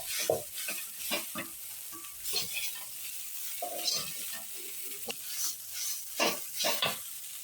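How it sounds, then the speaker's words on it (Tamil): Torn string hoppers being stir-fried in a pan for idiyappam kothu, a soft sizzle broken by repeated rhythmic scraping and tossing strokes of a spatula, close and fairly quiet, with no talk. "பிச்சு வச்ச இடியப்பத்தை கொஞ்சம் கொஞ்சமாக போட்டு வறுக்கிறோம்."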